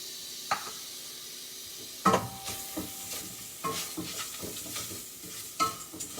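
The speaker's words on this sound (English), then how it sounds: "And saute it a little bit." Ginger sautéing in a pan for cauliflower pulihora, with a soft steady sizzle under intermittent stirring scrapes and a few sharp utensil knocks against the pan, close and fairly quiet.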